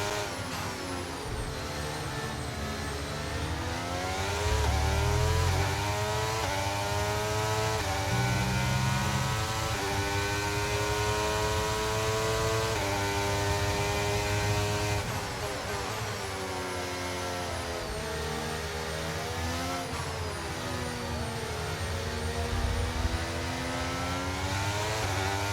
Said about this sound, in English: so hopefully I can hear the car engines.